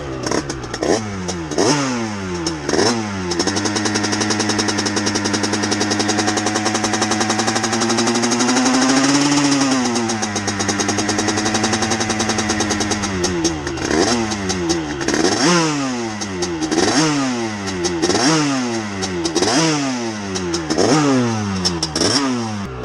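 A 2013 Gilera SMT 50cc moped fitted with a Stage6 Big Racing kit revs repeatedly, rising and falling in sharp bursts, then holds a long high-pitched wail before another string of quick revs, loud and close.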